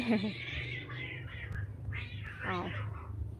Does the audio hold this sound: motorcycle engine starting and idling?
no